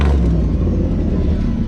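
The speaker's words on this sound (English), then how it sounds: "what you heard was this engine." A hot rod's engine idles nearby with a deep, steady low rumble and a slight unevenness, loud and continuous for a short stretch with no talking.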